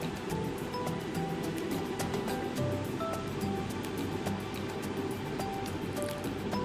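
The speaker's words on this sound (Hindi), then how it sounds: "जब ज़ीरे में क्रैक साउंड आने लगे" Cumin seeds crackling in hot oil in a pan, a steady sizzling hiss scattered with many small pops and crackles, close and moderately loud.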